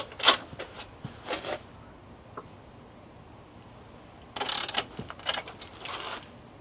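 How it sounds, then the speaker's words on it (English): A wrench working the rear axle nut of a motorcycle, giving a few short ratcheting bursts separated by quiet pauses, close and fairly faint. "Now on to loosening the axle nut."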